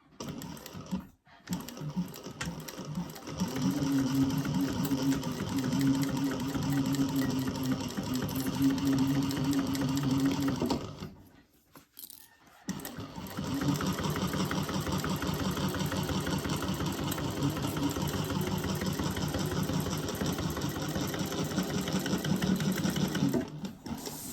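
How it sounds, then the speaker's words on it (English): A sewing machine stitches a crossbody bag seam in two long, steady runs of rapid mechanical whirring, with a brief pause between them and no talk. "Now we're going to sew that on using the seam allowance that's in the pattern."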